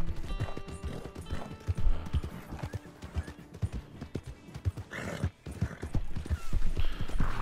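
Horse hooves clip-clop steadily in Red Dead Redemption 2 as a tiring horse trots along, loud and close, with an occasional whinny and some thuds mixed in.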